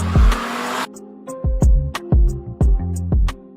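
Mercedes-AMG A45S with a Cobra Sport turbo-back exhaust, up close: a loud rev flare settles to idle, then a run of four or five sharp throttle blips with deep rumble and crackle between them.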